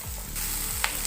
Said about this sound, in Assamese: এতিয়া চীজখিনি ইয়াতে মেল্ট হ'বলৈ দিব